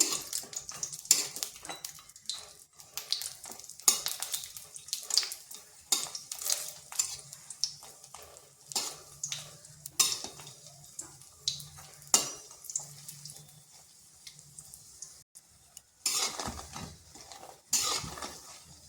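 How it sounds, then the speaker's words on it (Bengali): Lentil dumplings (bori) fry in oil in a pan while a spatula scrapes and clinks against the metal in irregular strokes, with a soft sizzle underneath. "বড়িগুলোকে একটু নেড়ে চেড়ে ভেজে নিচ্ছি"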